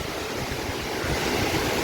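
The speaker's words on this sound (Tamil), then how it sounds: "சரியான ஃபாஸ்ட்டு, தண்ணி தெரிக்குது." Hebbe waterfall near Kemmangundi in Chikmagalur roars loud and close, a dense continuous rush of falling, splashing water with no voices over it.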